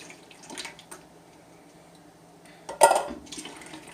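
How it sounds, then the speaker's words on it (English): Tomato-based sauce poured from a can onto strained spaghetti in a pot, a short wet splashing pour near the end with faint clinks of cookware before it, otherwise quiet. "I am going to go ahead and pour the sauce in here"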